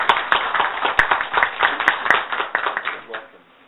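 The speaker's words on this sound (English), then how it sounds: "I'd like to lead the group in a round of applause" A city council meeting audience claps to welcome new council members, a brief burst of scattered hand claps that fades out, with some voices mixed in.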